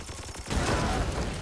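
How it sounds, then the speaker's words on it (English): A burst of gunfire followed by a booming explosion destroys a crate in Warhammer 40k Chaos Gate, a few sharp cracks then a sustained rumbling blast. "Maybe we can shoot at the crate. There we go. See what remains after this explosion."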